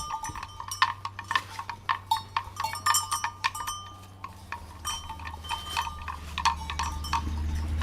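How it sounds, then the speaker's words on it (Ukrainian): Hollow, irregular knocking of a cow's wooden bell clunking close by as the cow moves, uneven rhythm, no talking. "В одної корови, до речі, дерев'яний дзвоник. Такий він цікавий звук видає."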